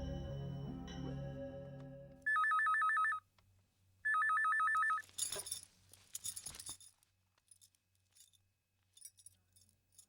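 A telephone rings twice in short electronic trilling bursts, loud and clear, after a fading music sting, followed by clattering handling sounds as the handset is picked up.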